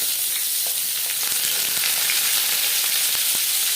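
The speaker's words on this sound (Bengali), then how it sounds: "তেল গরম হয়ে যাওয়ার পর দিয়ে দিলাম বেগুন।" Eggplant slices frying in hot mustard oil give a steady, dense sizzle with scattered small pops, close and continuous, no voices.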